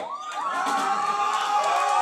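A concert audience shouts and cheers together in a dense, sustained roar of many voices, steady and loud for the whole stretch, with no clear individual speech.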